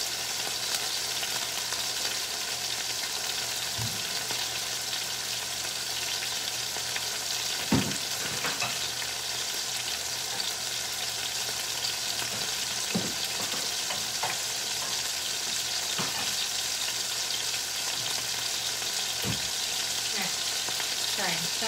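Burgers frying in a pan and being turned: a steady, loud sizzle throughout, with occasional scraping and tapping from the spatula as the patties are flipped back and forth.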